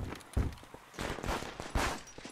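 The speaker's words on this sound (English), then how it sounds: "And next would be firecrackers, which you just throw an explosive." Firecrackers thrown as explosives in Garry's Mod with the Melee Arts 2 mod, giving a few sharp bursting pops spaced about a second apart over busy game ambience, loud and close.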